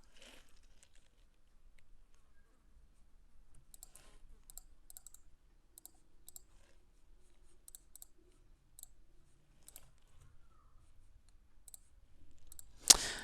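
Computer mouse clicks while building internal links on a web page, sharp and isolated, coming in small clusters scattered across a quiet background, with a louder burst of handling noise at the end.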